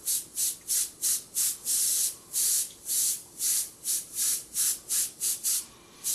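An airbrush sprays opaque gray paint in a rapid series of short hissing bursts with brief pauses, close and fairly steady, and nobody speaks.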